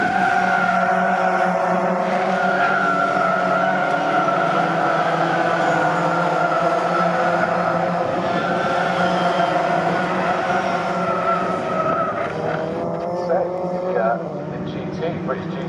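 Ginetta Junior race cars racing at Snetterton, a steady loud roar of several engines with tyre noise, while a commentator talks over it throughout.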